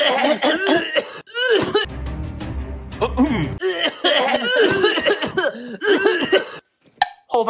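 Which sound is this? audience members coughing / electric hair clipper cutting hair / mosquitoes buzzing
audience members coughing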